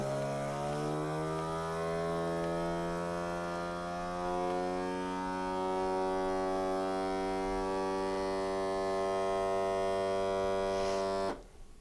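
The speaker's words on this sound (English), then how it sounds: "You could hear that vacuum" Avid Armor vacuum sealer on its canister function, a loud steady drone that slowly rises in pitch as it pulls down, then cuts off abruptly at the end.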